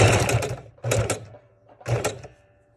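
A sewing machine stitches through a fabric and file folder journal cover in three separate bursts of rapid mechanical clatter, each about half a second long, with short pauses between them.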